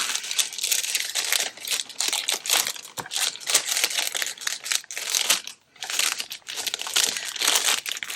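A plastic bag, the kind used to hold fabric, crinkles and crumples loudly up close in irregular bursts of crackling rustle with brief pauses, no voices present.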